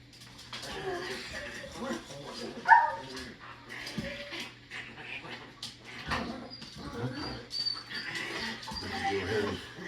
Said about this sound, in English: And the dogs are being knuckleheads.